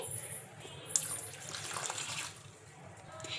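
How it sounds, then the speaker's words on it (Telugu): Water pours steadily into a container, a close splashing gush that fades down near the end. "ఇంకా ఇప్పుడు ఇందులోకి మునిగే వరకు వాటర్ అయితే వేసుకోవాలి"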